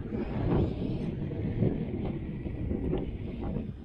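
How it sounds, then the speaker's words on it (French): Wind buffets the microphone in a continuous low rumble, steady and close, with no voices. "Oh là là, le vent."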